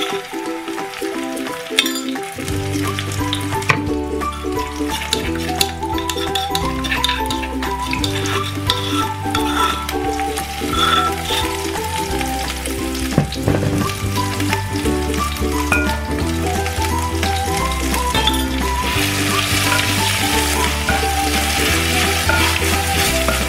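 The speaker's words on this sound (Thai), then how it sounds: "ที่เราผัดน้ำพริก เครื่องแกงนะคะ ให้หอมนะคะ" Homemade curry paste being stir-fried in oil for a northern Thai mustard-green curry, a steady close sizzle with a faint clink, heard beneath continuous background music.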